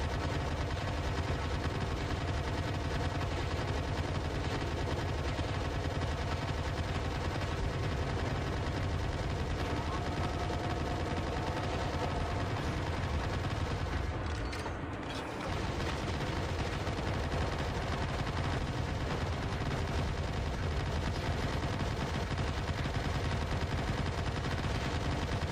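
Machine gun fire in Turok Evolution, dense and continuous, roaring loud for about 25 seconds with one brief break in the middle.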